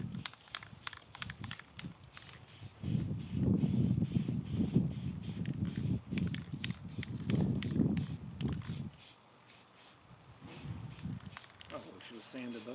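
Aerosol spray paint hissing onto metal hardware meant to be set into wood, in repeated short bursts at close range, with a person talking over much of it.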